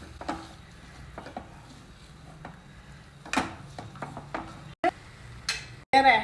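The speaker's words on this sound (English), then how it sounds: "Lightly roast it in the remaining ghee in the pan." Grated sweet potato being lightly roasted in ghee in a pan for sweet potato kheer, with a soft sizzle and scattered clinks and scrapes of a spoon against the pan, fairly quiet and close.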